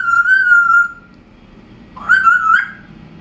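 An African grey parrot gives two clear, loud whistles close by, each a wavering sustained note with a brief pause between them.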